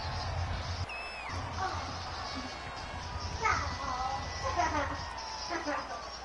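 A stadium crowd in a Madden football game on PS4 roars and whoops as a big third down approaches, a continuous dense cheer with scattered shouts rising and falling.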